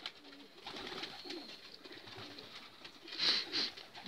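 Homing pigeons cooing at a loft, soft low rolling coos close by, with a couple of brief louder bursts near the end over a quiet background.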